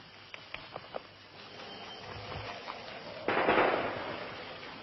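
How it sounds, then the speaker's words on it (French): A sharp distant gunshot crack rings out amid a few faint pops near the Angkor temples, followed by a brief louder burst of rushing noise, all fairly quiet. "Vous avez entendu un coup de feu."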